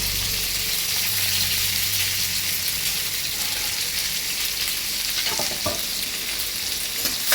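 Chopped onion and curry leaves sauté in hot oil with a dense, continuous sizzle close up, broken by a few light stirring scrapes near the end and no talking.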